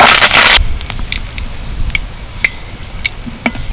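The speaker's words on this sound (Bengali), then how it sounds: "তিনটে কারি পাতার ডাল নিয়েছি এগুলোকে ভেজে নেব" Three curry leaf sprigs drop into hot oil for crisp fried dal, giving a loud burst of sizzling that quickly dies down to sparse, scattered crackles and pops.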